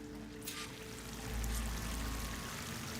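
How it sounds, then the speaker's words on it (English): Rushing waterfall in the video game Horizon Forbidden West, a steady broadband roar of falling water that swells louder midway and stays dense and continuous, with no voices. "waterfall must be coming from somewhere."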